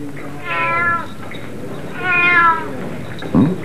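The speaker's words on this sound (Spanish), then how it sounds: "Gatito." A kitten meows twice, close and clear, each cry rising then falling with a pause between, followed by a brief rustle.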